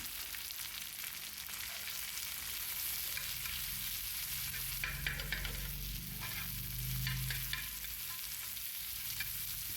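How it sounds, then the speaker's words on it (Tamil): Sliced tomatoes sautéing on a flat dosa pan, a continuous loud sizzle with stirring scrapes and a deeper frying surge in the middle, close and without speech. "ரெண்டு சின்ன சைஸு தக்காளி எடுத்து ஸ்லைசஸ் கட் பண்ணி அதையும் ஆட் பண்ணி நல்லா வதக்கிக்கலாம்"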